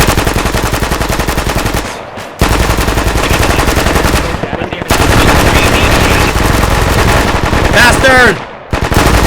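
Heavy automatic gunfire fills a military simulator video game in long, close, loud bursts broken by short pauses, with a voice shouting briefly near the end.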